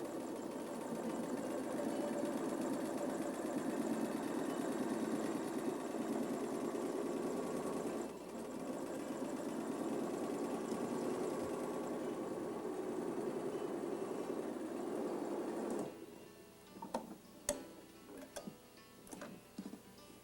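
Domestic sewing machine fitted with edge stitch foot number 10 stitching rows of shark's teeth heirloom tucks in extra fine thread, a steady close whir running continuously, then stopping with a few scattered ticks and clicks.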